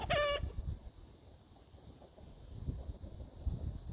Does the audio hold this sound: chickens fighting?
yes